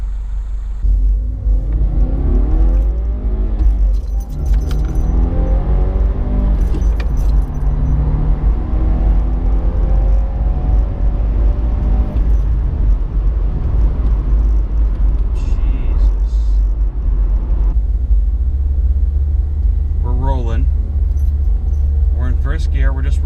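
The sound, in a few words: 2016 Subaru WRX car driving with Cobb Accessport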